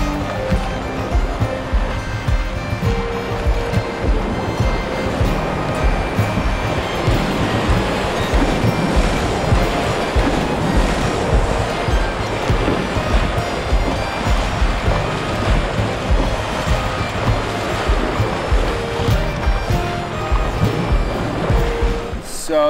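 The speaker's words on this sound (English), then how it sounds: "So that's a set of C3 rapids right there." A canoe runs a set of class 3 river rapids, with loud, continuous rushing and churning whitewater filling the scene, close and steady throughout.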